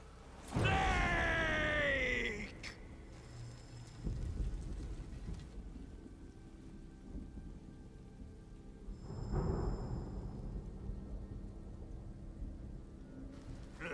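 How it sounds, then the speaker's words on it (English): Thunder and rain in Metal Gear Solid Delta: a loud rumbling crack at the start, then steady rain with a second rolling thunder swell midway, no talk. "Who's afraid of a little thunder?"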